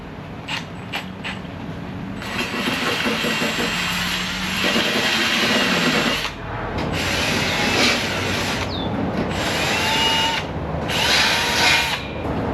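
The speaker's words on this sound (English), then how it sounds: "I'm spinning this slow with a drill just to get in those little shallows in the wiper cowl" A power drill spins a paint stripper disc slowly across the wiper cowl of a 1962 Chevrolet C10 pickup truck, a steady whirring grind with scraping texture, briefly pausing and restarting, close and loud throughout.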